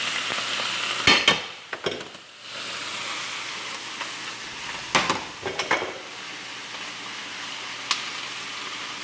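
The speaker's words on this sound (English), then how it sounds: "so we're going to fry that up a little bit" Garlic and broccoli rabe frying in a pan, a steady sizzle broken by clanking stirs and scrapes of the pan, close and moderately loud, with no talking.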